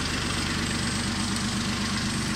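A Kubota tractor with a finishing mower idles steadily nearby, a continuous low engine rumble with an even pulsing throb and no speech.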